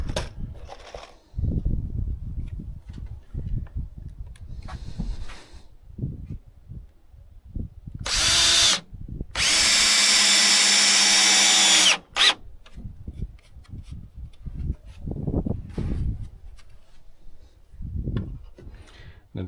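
A power drill drives screws on a farm, with one loud sustained whir of about four seconds, a brief burst just before it, and people talking and handling things around it.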